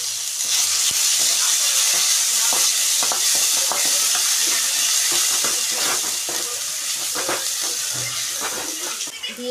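Ground ginger, garlic, onion, chili, coriander and cumin paste sizzles and spits steadily in a hot pan for a boal fish and potato curry, with a constant loud hiss and scattered stirring scrapes, no voice.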